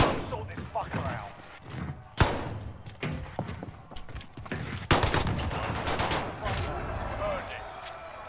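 Sniper rifle fire in the Warzone Pacific video game, likely a Barrett .50 cal: two sharp cracks several seconds apart among rumbling battle noise and scattered shots, with a voice talking over the game sound.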